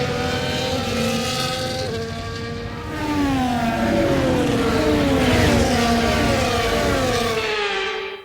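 Formula 1 race cars on the formation lap in the F1 24 video game, several engines droning loudly together with rising and falling pitch sweeps as they accelerate and pass, continuous and close with no talk.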